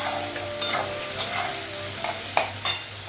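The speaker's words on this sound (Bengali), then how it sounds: "কড়াইয়ে হচ্ছে পেঁয়াজ লাগালাম, শুকনো লঙ্কা, কাঁচা লঙ্কা, টমেটো লাগিয়েছি। একটু ভেজে নেবো" Onions, dried and green chillies and tomato frying in a wok, a soft sizzle under several sharp scraping strokes of a spatula stirring.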